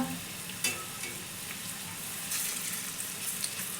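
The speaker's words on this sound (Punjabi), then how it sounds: "ਅਲਟ ਪਲਟ ਕਰਦੇ ਹੋਏ ਇਹਨਾਂ ਨੂੰ ਆਪਾਂ ਦੋਨੋਂ ਪਾਸਿਓਂ ਸੇਕ ਲਵਾਂਗੇ" Lentil bhalle dumplings frying in hot oil as they are turned over, giving a steady close sizzle with soft bubbling and a few brief scraping and stirring knocks, with no talk.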